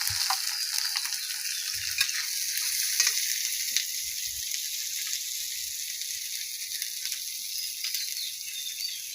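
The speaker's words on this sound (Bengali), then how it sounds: "গাজর আর ডিম ভাজা" Carrots and egg fry in a pan with a steady, bright sizzle, joined now and then by soft scrapes and taps of stirring.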